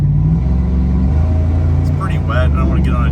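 A 1998 Dodge Dakota R/T pickup truck driving on wet roads on a cold morning start, its engine a steady low rumble throughout, with someone talking over it.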